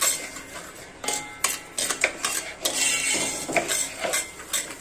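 Upma ingredients are stirred and fried in a pan over a high flame, with an irregular run of spoon clinks and scrapes against the metal over a soft sizzle and no talking.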